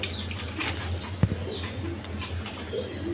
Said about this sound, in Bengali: এইখানে একটা ব্লু বার সিঙ্গেল নর কবুতর আছে, লাহোরি নর কবুতর